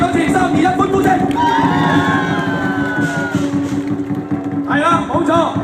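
A crowd at a National Day dragon boat festival in Jiujiang, Nanhai, cheers loudly with rising whoops and shouts mixed into a dense wash of voices, then a brief dip and a fresh burst of yells.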